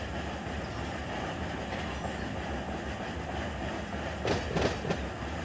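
Freight train rolling along in the Run 8 train simulator game, a steady dense rumble of wheels and rail noise throughout, with a brief burst of clattering near the end.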